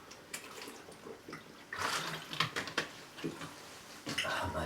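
Water glugs and splashes as it pours from a big bottle indoors. Two short bursts of pouring stand out against quiet room noise.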